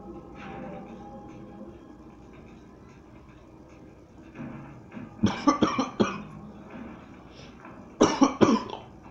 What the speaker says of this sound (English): Sorry, please excuse my horrendous cough.